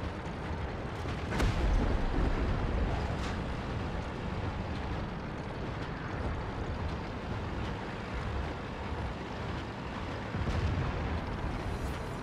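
A tank cannon in a video game, a Kanonenjagdpanzer firing armor-piercing rounds, booms as a few heavy blasts over a dense rumbling battle backdrop, loud and continuous with no speech.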